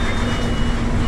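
A truck's reversing alarm beeps as it backs onto a bridge, one loud, sustained tone heard close over the rumble of the engine.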